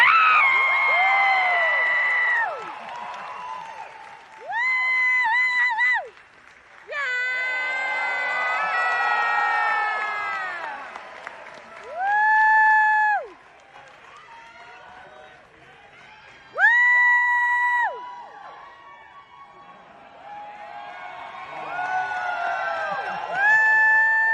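A crowd at The Mandalorian premiere cheers and screams in loud bursts of whoops and shrieks as cast members are brought out, with an announcer talking between waves of cheering.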